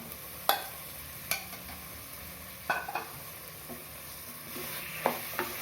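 Mutton being stirred and sautéed in a spicy masala with yogurt for a curry, a soft, low sizzle broken by several sharp scraping strokes of a spoon against the pan at irregular intervals.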